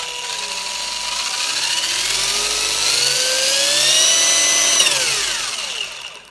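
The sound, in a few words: Tamiya Super Modified 11t motor running on RC car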